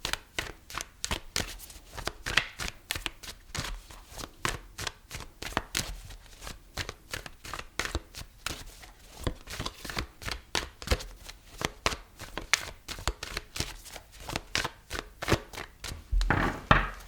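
Tarot cards being shuffled by hand, a rapid series of sharp riffling slaps and taps repeating in uneven bursts, close and fairly quiet, with no talk.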